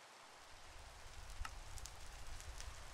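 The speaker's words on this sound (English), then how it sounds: "So it is raining a lot." Steady rain falls in the survival video game Tough As Nails, making a soft, constant patter with a few brief drip accents.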